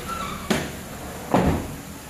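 Sliding screen door on a new house in Cebu, Philippines, making two short scraping rolls about a second apart, each a brief rattling swish against quiet room tone.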